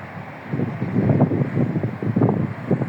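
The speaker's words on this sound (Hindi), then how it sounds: "ठंडी ठंडी हवा चल रही है" Cool wind gusting across an open observation tower at night overlooking Mina King Salman port in Bahrain, a steady rushing buffet on the microphone that swells and eases in waves, close and fairly loud, with no voices.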